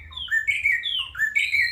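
A territorial male bird sings in Zimbabwe, giving repeated bright, rising chirped phrases at close range. There is no other sound.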